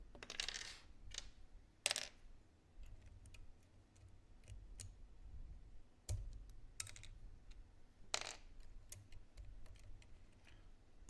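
Keys on a mechanical keyboard with thermal type test switches clack in scattered bursts and single strokes, faint and close, with a few louder clustered presses.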